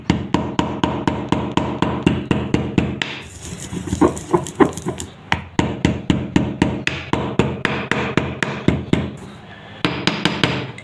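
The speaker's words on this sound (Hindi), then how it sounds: "ये हवन दस्ता है, इसमें आपने इसको ग्राइंड करना" White sesame and nigella seeds pounded in a heavy mortar and pestle, a loud steady run of sharp metallic strikes with a brief scraping grind midway before the rhythmic pounding resumes.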